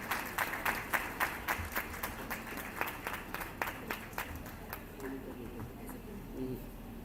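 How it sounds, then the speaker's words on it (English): An audience at an international moot court competition on human rights claps in a steady round of applause, with sharp, closely spaced claps that thin out and fade toward the end. "Big round of applause"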